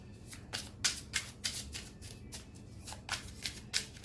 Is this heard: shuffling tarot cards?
yes